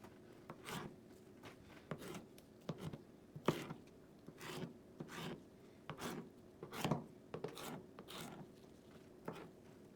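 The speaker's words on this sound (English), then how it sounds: "cut it in half and use the smaller pieces to chop it into your desired size" A knife chops through bell pepper pieces on a cutting board in a steady run of about a dozen crisp, close knocks, each with a slight rasp, spaced roughly a second apart and heard alone.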